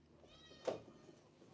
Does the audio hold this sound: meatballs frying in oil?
no